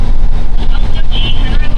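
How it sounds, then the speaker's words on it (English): A rebuilt Peterbilt truck engine rumbles steadily on the road during its first drive, a loud low drone mixed with heavy wind buffeting against the microphone throughout. "This is the first cruise with this engine running."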